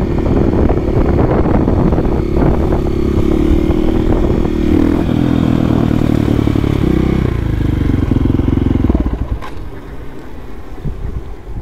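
A motorcycle rides along with a steady loud engine drone and wind buffeting the microphone, then the engine note drops and quiets near the end as the bike slows.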